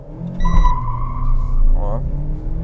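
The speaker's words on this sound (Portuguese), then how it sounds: "Ó, barulhinho legal subindo o giro." Car engine revving up under hard acceleration toward a 6,000 rpm cut-off, a loud close rising drone with a squeal-like sweep near the end, someone talking over it.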